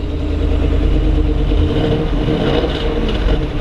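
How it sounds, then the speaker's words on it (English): Fuel-injected engine of a 1968 Ford Bronco 4x4 resto-mod running steadily and revving, a loud, close, continuous rumble with no voices over it. "Starts right up with the fuel injection."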